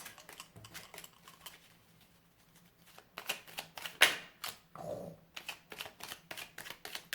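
Tarot cards shuffled by hand for a reading, a quiet run of soft riffling and snapping bursts that turns busier and more rhythmic in the second half, close and fairly faint.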